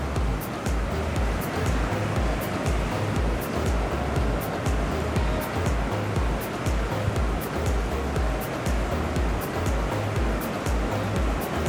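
Ocean waves heard from the deck of the cruise ship Liberty of the Seas form a steady, dense wash of water and wind noise that stays at an even level throughout, with no voices.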